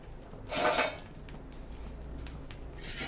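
Roasted coriander seeds are tipped into a metal pot, a short rattling clatter of seeds and metal, followed by a few faint clinks, fairly quiet with no talking.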